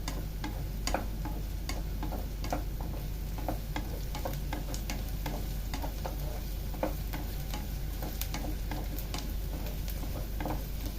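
Onions fry in a pan while being stirred, a steady loud sizzle broken by frequent sharp clicks and taps of the spoon against the pan, close and continuous throughout.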